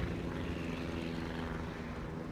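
Propeller aircraft engine in the naval combat game World of Warships, a steady loud droning hum with a low buzzing throb that holds constant throughout, with no talk over it.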